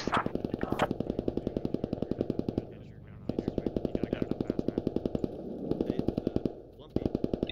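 Rapid automatic gunfire in the video game Squad, loud and close, fired in long rattling bursts separated by short pauses.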